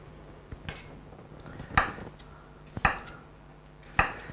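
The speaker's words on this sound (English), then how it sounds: "So we cut in small slices like that" A knife cuts potatoes into small slices on a board for an omelette filling, with a few sharp, spaced chops up close and quiet handling between them.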